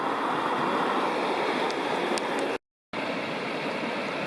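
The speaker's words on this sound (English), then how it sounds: "The Virgin River that runs through the canyon." Virgin River flowing through Zion canyon near the start of the Narrows Trail, a steady broadband rush of water with some wind, continuous apart from one brief cut to silence.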